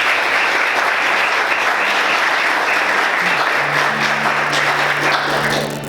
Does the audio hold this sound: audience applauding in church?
yes